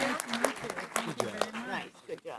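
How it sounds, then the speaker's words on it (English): Audience applause for four panelists at the end of a political party debate event, clapping heard under and between someone speaking over it, moderately loud and continuous. "Let's give all of these 4 a round of applause."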